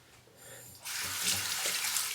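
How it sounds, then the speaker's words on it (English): Hot water from a tap runs for shaving, starting as a soft trickle and then opening into a steady, close splashing stream into the sink. "Under the hot water."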